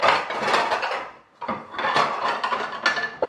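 Big metal frying pan being handled in a kitchen, with a run of clanks, knocks and scraping clatter in quick irregular succession, close and fairly loud.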